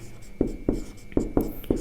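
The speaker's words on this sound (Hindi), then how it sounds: "और इसके बाद हम लास्ट और लिखते हैं" Writing on a board during a Hindi grammar lesson, with five quick, sharp marker or chalk strokes in an irregular rhythm, close and fairly clear against a quiet room, and no speech.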